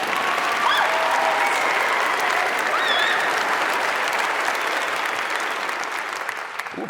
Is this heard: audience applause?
yes